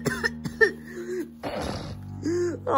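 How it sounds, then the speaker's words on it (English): A sick person coughs several times in short bursts indoors, close and fairly loud, with gaps between and brief vocal sounds. "all I hear is your coughing and sneezing"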